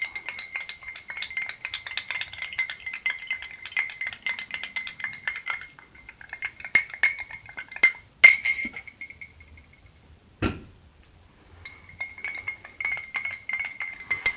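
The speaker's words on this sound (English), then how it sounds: "Stir it." A spoon stirs tea in a glass, giving steady bright clinks and tinkling rattles that pause briefly near the middle before resuming, close and fairly loud with no talking.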